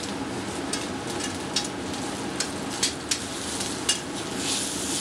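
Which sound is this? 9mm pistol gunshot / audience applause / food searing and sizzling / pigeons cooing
food searing and sizzling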